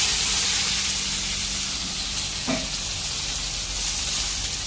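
Chopped onion fries in oil with mustard seeds, giving a loud, dense hissing sizzle that holds steady throughout with a brief soft knock near the middle and no voices.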